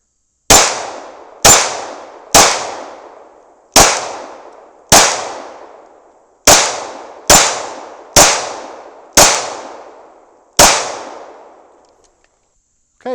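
Ten sharp 9mm pistol shots fired at steel targets with Inceptor ARX frangible 65-grain rounds, spaced about a second apart with small gaps, each loud crack ringing off with a short metallic decay.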